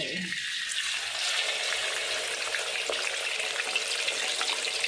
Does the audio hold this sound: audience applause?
no